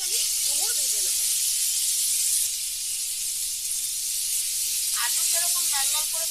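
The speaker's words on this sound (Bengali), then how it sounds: "এই তেলেই আমি ডুমুর ভেজে নেব" Figs frying in hot oil, in the same oil used earlier for potatoes, while cooking a Bengali fig and prawn dish, give a steady, loud hiss and sizzle. Short bursts of speech come through over the frying near the start and again at the end.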